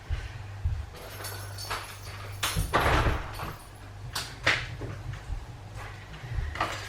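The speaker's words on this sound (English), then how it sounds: "open the back door for Lola" A back door opening in a home kitchen, with a latch clack and a few scraping, knocking sounds over a low steady hum, close by, and no talk.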